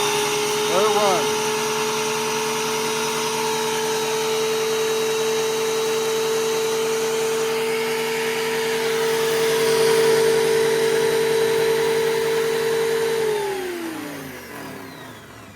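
A Harbor Freight Hercules thickness planer runs close by with a loud, steady motor whine and hum, starting up quickly and holding constant before winding down in a falling pitch near the end.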